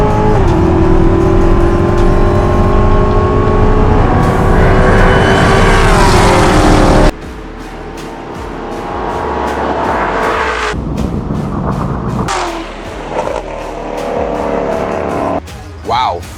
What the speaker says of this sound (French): Les deux voitures sont parties pratiquement au même moment et ne se distancient pas.